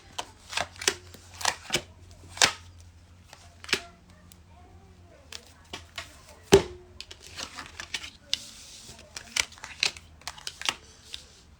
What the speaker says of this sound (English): Do I do a big shuffle?